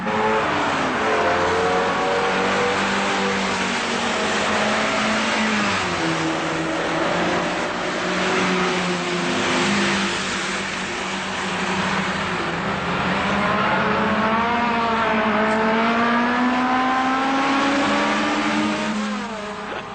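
A car races around a track, its engine revving and wailing loudly through rising and falling gear sweeps, continuous and close for the whole stretch.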